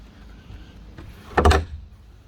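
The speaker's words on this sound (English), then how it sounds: "The little garden hose door right here." A small garden hose door in a western red cedar board-on-board fence is swung, giving a faint click followed by a louder wooden thump and rattle as it closes, close by and brief, with no talk.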